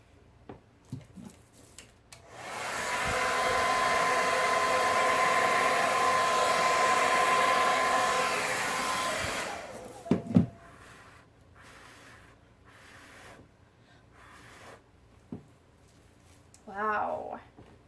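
A handheld hair dryer blows hot air over a blue Dutch pour acrylic painting, starting abruptly and roaring steadily at close range for about seven seconds before cutting off, followed by clatter and a few brief voices.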